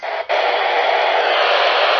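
Steady broadband hiss from a VHF/UHF scanner radio with the squelch open, loud and unbroken after a brief dip at the start, with no voices.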